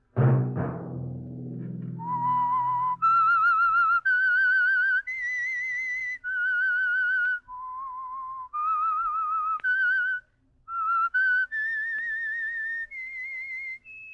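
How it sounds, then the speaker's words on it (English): A lone melodic whistle carries the lilting theme tune of The Whistler radio program, clear and close, with sustained notes and brief pauses between phrases, after a short low rumble at the start. "Let that whistle be your signal"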